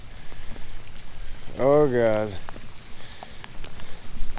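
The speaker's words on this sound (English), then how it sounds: "There's the rain, boys." Rain falls steadily outdoors during a storm, a broad constant hiss running throughout, briefly overlaid by a voice exclaiming in the middle.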